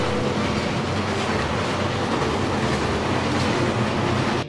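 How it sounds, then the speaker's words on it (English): A train rumbles steadily close by, a continuous loud rolling roar with faint rhythmic rattling from the wheels. "the train is just about to arrive"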